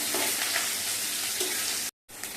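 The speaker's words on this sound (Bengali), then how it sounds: "কালো জিরেটা দেওয়া হলো, পেঁয়াজটা দিয়ে দিলাম, এবার একটু নেড়ে নিলাম।" Onion frying with nigella seeds in hot oil before okra goes in, a loud, dense, continuous sizzle close up, cut by a brief silent gap near the end before the hiss resumes.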